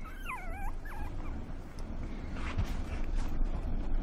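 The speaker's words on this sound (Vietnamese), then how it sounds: "Chó ở đâu ra đấy?" A puppy whimpers in a few high, wavering yelps near the start, then fades into rustling and wind-like noise with soft thumps.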